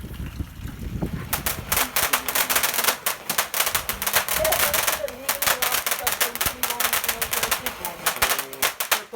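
Fireworks crackle and pop in a family bonfire on Bonfire Night, with a dense run of sharp close bangs and snaps over low fire noise and people talking.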